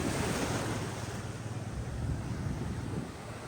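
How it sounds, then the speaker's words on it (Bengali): Sea waves surge and wash steadily onto Cox's Bazar beach at Laboni Point, a loud continuous roar of surf mixed with wind buffeting the microphone. "দেখেন কিরকম ভাবে ঢেউগুলো আসছে।"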